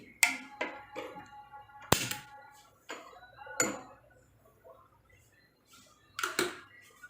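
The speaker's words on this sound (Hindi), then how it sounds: "तो मैं इसमें अब तवा रखूँगी" Metal clanks and taps as a tawa griddle is set on a kitchen stove during a morning breakfast routine, a handful of sharp, separate knocks spread out over several seconds with quiet gaps between them.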